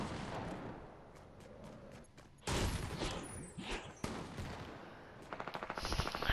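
Gunfire in Fortnite: sharp bursts and cracks broken up by quieter gaps, ending in a fast rattling volley, close and loud.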